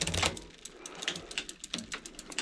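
A Microshift 8-speed bicycle shifter clicks through gears, with several crisp, close mechanical clicks and ratchety snaps in quick succession.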